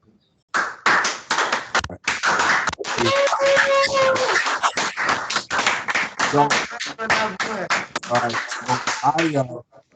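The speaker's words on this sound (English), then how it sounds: "Can I hear you clapping hands or something?" Audience at an education center clapping in a loud, uneven burst of sharp hand claps, with voices cheering and calling out over the clapping.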